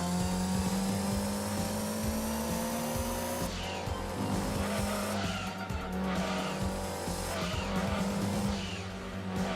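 Race cars, including an Audi TT race car, roar around a track in the video game Gran Turismo 2, engines whining steadily with tires squealing and skidding through corners, loud and continuous with faint talk beneath.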